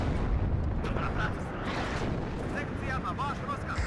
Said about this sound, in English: The artillery kind of coming down is helping keep things suppressed.